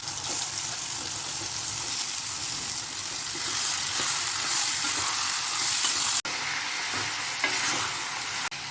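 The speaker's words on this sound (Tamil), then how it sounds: "இப்போ சிக்கனை சேர்த்துடலாம்" Chicken fries in a pan with a tomato and garlic masala. A loud, continuous sizzle runs throughout, with stirring scrapes and a sharp clatter near the end. No voices are heard.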